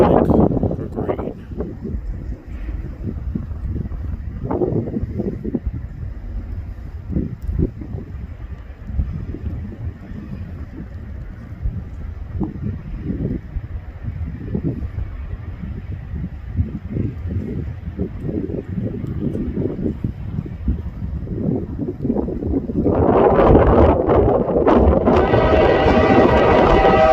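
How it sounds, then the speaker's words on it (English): Wind gusts buffet an outdoor microphone beside a railway line, a rough low rumble that swells and fades in uneven bursts, rising into a louder broadband roar near the end. "Don't blow now, wind."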